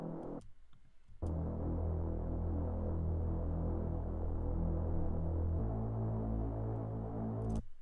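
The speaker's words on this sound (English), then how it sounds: "And I have my sub bass," Synth sub bass from a Bitwig session: a steady, deep droning low tone, quiet and sustained, rising to a fuller level after a brief thinner start and shifting pitch once partway through, with no voices.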